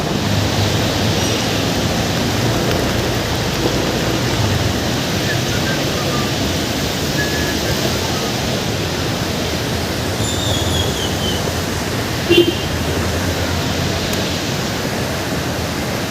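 Heavy rain pours steadily near an airport terminal off-ramp under rehabilitation in Manila, a dense, unbroken roaring hiss filling the whole scene with no talk.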